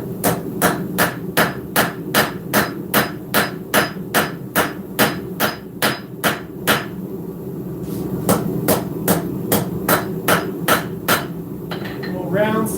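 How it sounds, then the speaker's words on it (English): A hammer forging a hot knife blade on an anvil strikes in a fast, even rhythm of loud ringing blows, pausing briefly before another regular run of strikes, then trailing off with rapid lighter taps. "Little round side of the hammer there. Draw a little heel down."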